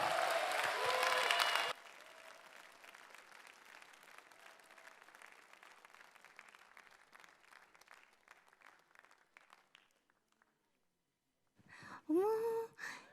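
A church concert audience bursts into loud applause to welcome a performer back for an encore. The clapping drops quickly to a softer, thinning patter that fades into near silence, and a brief voice is heard at the end.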